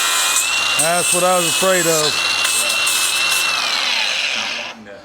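A power grinder working on cast metal pipe for a homemade cultipacker, a steady high whine running almost the whole clip before winding down, with someone talking over it.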